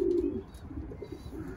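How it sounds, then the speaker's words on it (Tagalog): Pigeons in a loft give a short, soft cooing close by, a low warbling coo at the start fading into quieter murmurs over a second and a half. "Ayan yung mga ibon."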